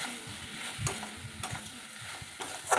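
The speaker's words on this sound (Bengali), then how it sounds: "এরপর আমি কিছু ধনেপাতা কুচি এই আলু পেঁপের সঙ্গে দিয়ে আবারও কষিয়ে নিচ্ছি" Potato and papaya being stir-fried with chopped coriander in a pan, giving a close, quiet sizzle broken by irregular scraping strokes of a spatula, with no voices.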